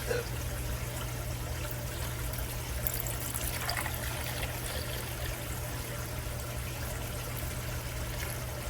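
Bone broth poured from a jar into a pot with other ingredients, a steady continuous liquid stream over a constant low hum, with no talking.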